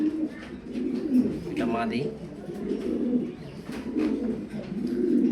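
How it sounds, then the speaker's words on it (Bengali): Grizzle racer pigeons in a loft coo in low, throaty repeated calls, close and steady, with someone talking over them throughout. "চমৎকার একটা কবুতর, কালারফুল।"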